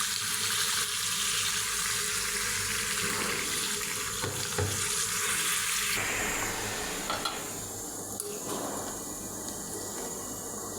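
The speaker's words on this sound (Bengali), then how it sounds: "এখন দিয়ে দেবো গরম পানিটা।" Hot water pours into beef frying with radish and pointed gourd in a pan, a steady watery rush over sizzling that settles into a continuous fry with a few light clinks, close and fairly loud.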